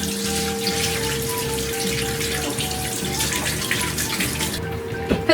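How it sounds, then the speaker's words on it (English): Hands being washed under a running kitchen tap while baking a lemon cake: steady, close splashing water flows for several seconds with shifting patter as hands move through the stream, and the flow cuts off near the end. "I like to wash my hands"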